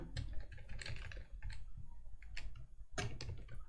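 Fast, close typing on a computer keyboard while writing Python code, with crisp clustered keystrokes and short pauses running steadily throughout, no voice over it.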